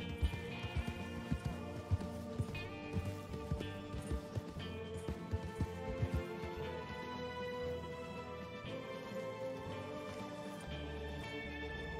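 Horse hooves clip-clop steadily in a role-play video game, a brisk repeating hoofbeat rhythm under music with sustained tones, moderately loud and continuous throughout.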